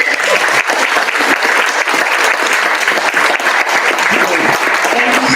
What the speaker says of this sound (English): Can everybody give a round of applause for this?